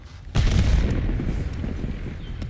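A frag grenade goes off in Black Ops 6, a sudden loud boom with a deep low-end rumble that lingers and slowly fades across the following seconds.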